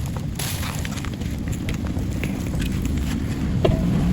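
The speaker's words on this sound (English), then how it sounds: "we can go ahead and start burning it using fire" Fire burns plastic waste in a pan with a dense, constant crackle and hiss, close to the microphone and loud, with scattered sharper pops and no talking.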